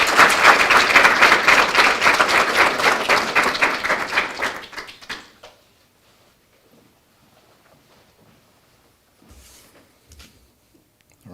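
Loud, dense applause from a graduation audience honoring a class of newly graduated supervising probation officers, sustained for about five seconds before fading to near silence with a few faint scattered claps and small noises.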